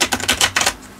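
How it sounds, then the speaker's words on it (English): Handmade prompt cards being shuffled: rapid, close, crisp riffling bursts in quick succession that stop partway through the second. "you attempt to shuffle."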